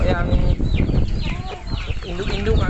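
Brahma chickens cluck and squawk at a farm, several birds calling close and loud over busy rustling, with someone talking among them.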